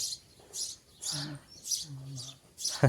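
A sparrow gives a series of short, bright chirps in a loose repeating rhythm, fairly close and clear, with faint low voice sounds between some calls.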